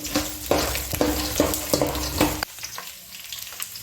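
Crushed garlic fries in hot oil with a close, bright sizzle, broken by rhythmic scraping stir strokes about every half second. The sizzle drops sharply partway through and fades to a softer crackle.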